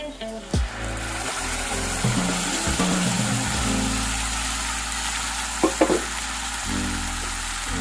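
Chicken frying and being stirred with a paste of green chilli, ginger, garlic, tomato and onion, a close, continuous hiss and sizzle with a few utensil knocks and scrapes, while a voice talks over it for much of the time.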